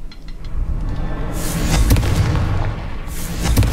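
Confringo blasting spell in Hogwarts Legacy, a booming explosion with crackling bursts, followed by a second blast near the end, loud and close.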